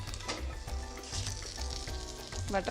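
Butter melts and sizzles steadily in a pan for paneer butter masala, a soft continuous frying hiss with faint crackles close by.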